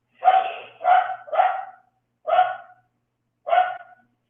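Dogs bark in a loud, close series of five sharp barks: three in quick succession, then two more spaced apart with silence between, no talking.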